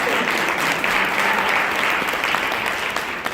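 A church audience claps for themselves in a strong, even round of applause that holds steady across the clip, dense and close with no talking.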